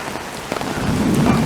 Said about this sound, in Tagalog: biglang umulan ng malakas